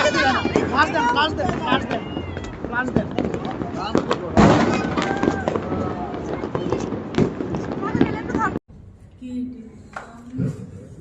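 Fireworks and firecrackers crackling all around during a New Year's Eve celebration with sky lanterns: a dense run of pops and bursts mixed with crowd voices and a nearby person talking, cutting off abruptly into quieter background near the end.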